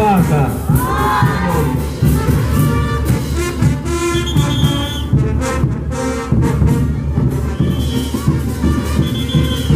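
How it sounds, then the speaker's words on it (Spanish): Crowd noise fills a school anniversary folk dance parade as parents clap to cheer on students performing the huaca huaca dance, a dense, continuous wash of applause and cheering mixed with shouts and voices. "Y las palmas de los papás para alentar esa danza"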